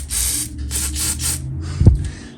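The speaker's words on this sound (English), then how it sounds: "WD-40," WD-40 spray hisses in several short aerosol bursts onto worn four-lug wheel hardware of a rescued 1963 Chevrolet Nova coupe, followed by a low clunk near the end.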